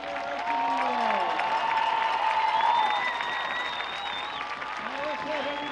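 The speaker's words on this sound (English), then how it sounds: "Please give a big round of applause for all of these senior marching Eagles." Crowd applause fills a high school football stadium honoring the senior marching band, steady clapping and cheering sustained throughout with a PA voice and whistle-like tones layered over it.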